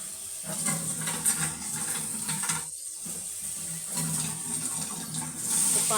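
Water poured into a pan of frying spices, a steady rushing splash with hiss that runs on, broken by one short pause, close by.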